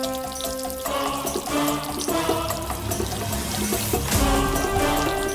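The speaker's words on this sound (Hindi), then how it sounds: "पौधे को पानी दे रही हूँ।" Water poured onto a plant, a steady splashing, trickling pour running loud and continuous throughout with no talk.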